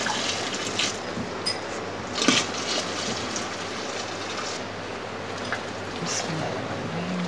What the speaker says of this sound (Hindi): ये मैंने पानी मिला दिया